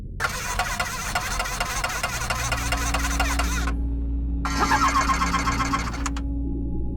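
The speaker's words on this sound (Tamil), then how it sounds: "அவன் நடுங்கும் கைகளால் காரை மீண்டும் ஸ்டார்ட் செய்ய முயன்றான்." A car's starter cranks the engine as it tries to start, in two long grinding bursts with a brief pause between them, over a steady low hum. No voices are heard.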